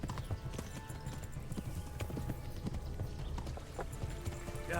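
A horse's hooves clip-clop in the medieval video game Kingdom Come Deliverance, with quick, steady, moderately close hoofbeats over a constant background and a brief whinny near the end.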